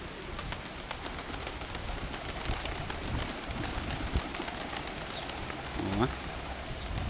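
Soft pigeon cooing amid steady outdoor wind noise, with a few faint bird calls in the background.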